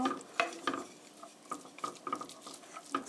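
Chopped onion, garlic and carrot stir-fried together in a pan, close irregular clinks and scrapes of a utensil against the pan with only a faint sizzle beneath.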